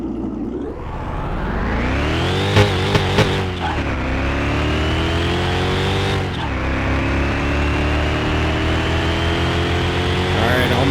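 Barn-find car blasting down a drag strip at full throttle, a loud continuous engine roar climbing steadily in pitch through the gears with brief shift dips, heard up close from inside.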